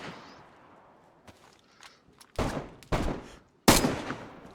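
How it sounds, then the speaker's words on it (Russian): Gunfire in the survival game DayZ: a few loud, sharp shots spaced apart, each ringing off briefly, preceded by quieter scuffling and footstep-like movement. "По мне стреляет в спину."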